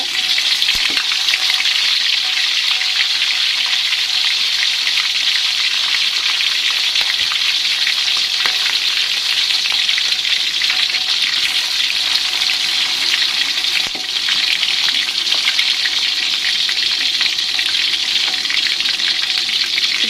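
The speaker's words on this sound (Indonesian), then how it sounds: "Nah ini leher ayamnya saya mau goreng dulu ya." Chicken necks fry in hot oil with a steady, dense sizzle and crackle that holds loud and close for the whole stretch, with no talking over it.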